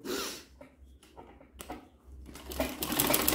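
An embroidery sewing machine stitches a fabric table runner, giving a rapid mechanical whirring and tapping in uneven bursts that build toward the end, fairly faint and close.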